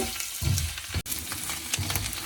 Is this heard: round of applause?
no